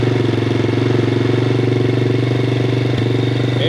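A Honda Grom clone motorcycle with a Nibbi carb idles through an aftermarket exhaust, a loud, steady, close-up single-cylinder burble with a fast even pulse and a slight blip near the end.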